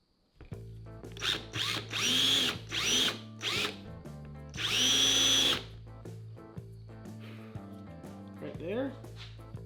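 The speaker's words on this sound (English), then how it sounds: "we're gonna go ahead and do our little countersink on them" A power drill countersinks holes in wood for a serving tray, whirring in several short, loud bursts separated by pauses, with a person talking in between.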